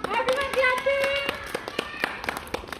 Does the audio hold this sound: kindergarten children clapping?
yes